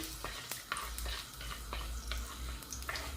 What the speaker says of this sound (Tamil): எடுத்து வச்சுருக்கிற அந்த வெந்தயத்தை போடுறேன் வெந்தயமும் வந்து நல்லா பொரியட்டுக்கும்